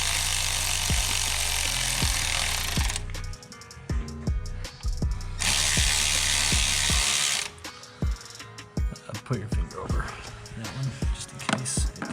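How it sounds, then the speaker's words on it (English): A hand ratchet clicks rapidly while tightening valve seal keepers on a Pontiac G8 GT 6.0 LS engine, with bursts of fast close ratcheting alternating with a louder broadband hiss and scattered clicks. "The ratchet."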